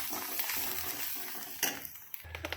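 Masala being stirred into egg fried rice in a pan, a steady scraping and clinking of a spoon against metal over a soft background sizzle, close and moderately quiet.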